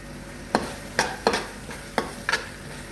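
Curry and masala powder stirred in a pan, with a spoon scraping in six or seven distinct, fairly loud strokes at an uneven rhythm over a soft sizzle, no voices.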